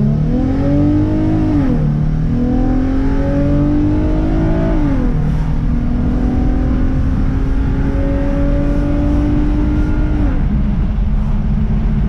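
An Infiniti G35 coupe with a swapped JDM engine drives on a road, its engine note climbing through rising revs, dropping at shifts and climbing again, loud and close throughout.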